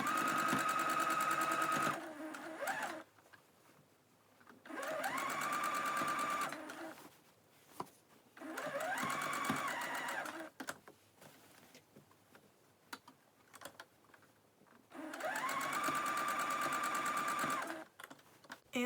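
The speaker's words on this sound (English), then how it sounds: "for this part I will just be using a normal straight stitch" A sewing machine runs a straight stitch along fabric in four fast, rattling bursts of a few seconds each, separated by quiet pauses with small handling clicks, close and clear, with no talking.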